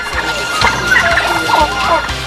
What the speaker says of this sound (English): The stock of the local species of turkeys was also increased.